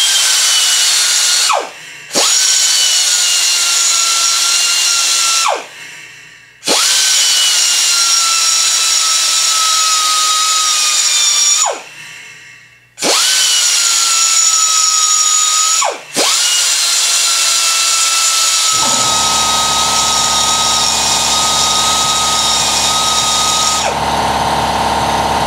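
A die grinder cleans up metal in a loud, sustained high-pitched whine. It stops and spins back up several times, then winds down to a lower hum near the end.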